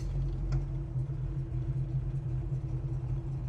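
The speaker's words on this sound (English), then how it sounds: "The idle's nice sitting here at the stop sign." A 1970 Chevelle SS V8 idles at a stop sign, a steady low rumble with a faint even lope that holds throughout, with no one talking over it.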